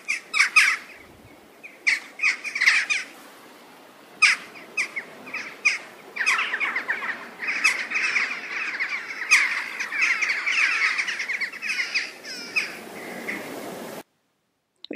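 Jackdaws call repeatedly outdoors, sharp 'chack' notes in clustered bursts and singles at moderate distance, some calls overlapping as several birds keep up a noisy chatter over quiet background for most of the stretch.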